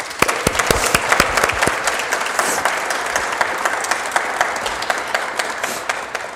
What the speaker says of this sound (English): Could you guys give them a round of applause?